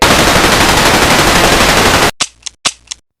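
A loud, rapid burst of automatic gunfire rattles continuously for about two seconds, then stops, followed by two sharp metallic clicks.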